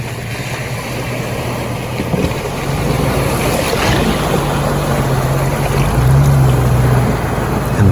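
An overland vehicle fords a big water crossing in scenic country, a steady rushing wash of water and wind with a low engine drone beneath, continuous and fairly close throughout.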